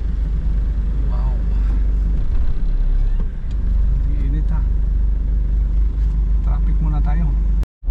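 Road traffic heard from inside a vehicle, a steady low engine rumble close by with passing cars, while people talk over it.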